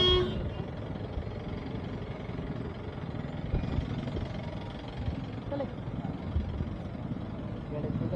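Road traffic crawls on a congested road to Sinhagad Fort in Pune during the monsoon season, with a steady rumble of engines and a horn tooting near the start. Voices talk over the traffic.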